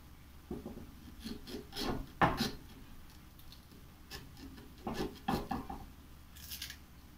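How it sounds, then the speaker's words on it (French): Grapefruit and ginger are chopped with a knife for a blender, giving scattered, quiet cutting and scraping strokes at an uneven pace with no talk. "Je suis en train de couper pour que ça soit plus facile de mettre dans le blender."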